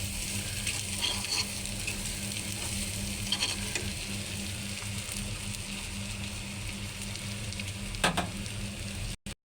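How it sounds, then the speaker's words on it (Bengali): Prawns fry in a pan for a spiced bhuna curry, giving a close, continuous sizzle and crackle with faint stirring scrapes and a low hum underneath, ending abruptly. "একটু ভাজা ভাজা করে দেবো চিংড়ি মাছটি"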